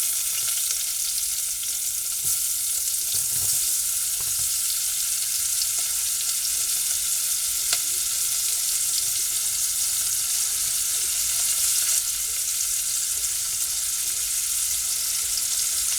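Onions frying over lowered heat in a pan, a constant broad sizzle that stays even and close throughout, with a few faint knocks and no voices.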